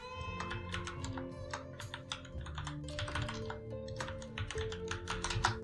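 Rapid, irregular keystrokes on a computer keyboard, a close run of clicky taps lasting several seconds with no talk.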